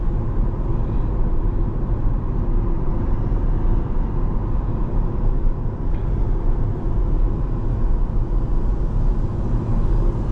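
A C8 Corvette cruises along with a steady, dense low engine and road rumble that holds constant and fairly loud from start to finish, with no talking.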